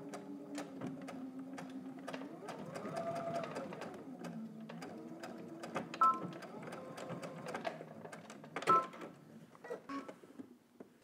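Sewing machine stitching denim for a pair of jeans, with bursts of motor whir rising and falling as it backstitches, interrupted by sharp mechanical clicks and clunks between runs.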